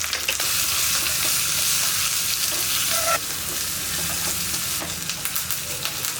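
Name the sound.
shallots, dried chilies and curry leaves frying in a pan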